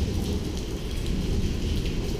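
Heavy rain pours down outdoors at an abandoned military base, a dense, loud, unbroken roar with a deep rumble beneath and no voices.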